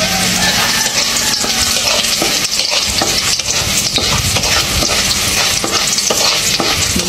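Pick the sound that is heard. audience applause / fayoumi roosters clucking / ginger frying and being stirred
ginger frying and being stirred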